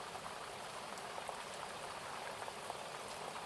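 Steady rain falling, a dense, even patter of drops on surfaces, constant and moderately close, with no voices.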